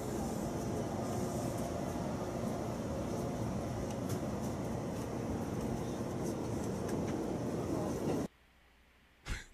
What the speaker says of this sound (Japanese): 一向に止まる気配を見せません。 蒲田を通過する勢い、